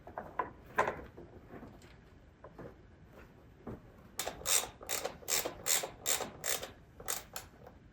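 A ratchet tightens a T30 bolt on a 2016 Jaguar thermostat housing: a few scattered clicks at first, then a quick run of sharp, close ratcheting clicks in a regular rhythm near the end, no talking.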